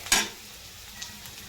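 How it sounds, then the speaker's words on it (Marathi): Chopped onion roasting in a pan for a village-style spicy kurvadi dish, with one short scraping stir near the start and then a faint, steady low sizzle. "तर आता आपला कांदा छान भाजत आलाय"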